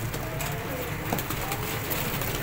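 A pigeon coos softly among a flock of Johnsiry motion pigeons kept for sale in Faisalabad, low repeated calls under a constant hiss of background noise, with no clear talk.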